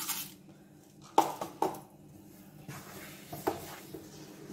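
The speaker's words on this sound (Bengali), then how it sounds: "পাঁচশো গ্রাম চিনি দিচ্ছি, পাল্পের সঙ্গেই মিশাচ্ছি।" A spoon works 500 grams of sugar into green mango pulp for jam, making a few distinct clinks and scrapes against the bowl, quiet and close, with soft rustling in between and no speech.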